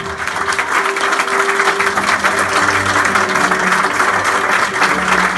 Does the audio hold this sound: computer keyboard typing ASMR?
no